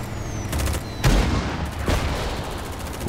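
Rapid bursts of gunfire ring out in the sci-fi strategy shooter Silica, with a couple of heavier booming impacts amid the chattering fire.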